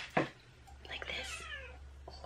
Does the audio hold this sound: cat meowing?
yes